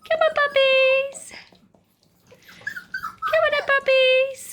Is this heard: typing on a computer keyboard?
no